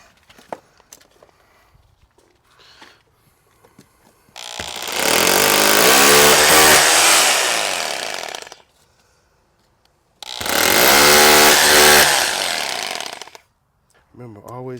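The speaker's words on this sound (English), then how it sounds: "Do our hammer drill thing." A hammer drill roars in two loud bursts of several seconds each while drilling for anchors during an A/C unit install, separated by quiet pauses with faint handling noise.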